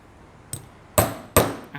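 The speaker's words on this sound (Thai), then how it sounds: "รูแรกนะคะให้นักศึกษาตอกจากจุดนี้นะคะหนึ่งส่วนสี่นะคะ" A hammer drives a metal punch through leather while making stitching holes in the front panel of a leather cap: three sharp, close knocks, the first lighter, the next two louder and evenly spaced, with no talking.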